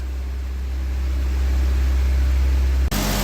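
A car engine idling with diesel in place of its engine oil: a loud, steady low hum and rumble, close by, that swells slightly before abruptly changing character near the end as a fan kicks in.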